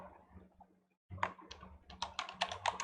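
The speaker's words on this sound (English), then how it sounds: "let's type it in" Typing on a computer keyboard: after a brief pause, a close run of crisp, uneven key clicks picks up quickly and keeps going in bursts.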